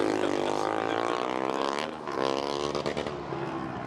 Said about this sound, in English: Noisy cars, I like it